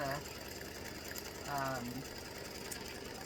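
An embroidery machine tacks down Peltex stabilizer in a large hoop while making tic-tac-toe game pieces, giving a steady, rapid mechanical stitching hum throughout, with a brief voice over it.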